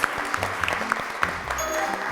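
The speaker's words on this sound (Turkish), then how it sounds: "Bir alkış gönderiyoruz" A studio audience on a Turkish TV quiz show claps for the contestants, a steady patter of applause with a few sharp louder claps, with faint voices underneath.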